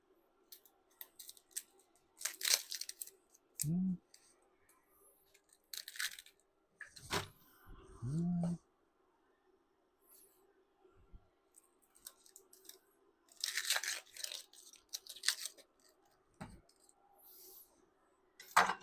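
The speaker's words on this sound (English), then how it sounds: "Cut both ends. Cut it in half." A knife slices through an onion on a cutting board in a home kitchen, making a few quiet, sharp cuts and crunches separated by pauses.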